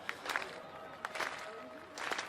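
Stadium crowd at the Eugene Diamond League athletics meet cheering a teenage pole vaulter, a broad distant roar with bursts of shouts and claps rising and falling over a few seconds.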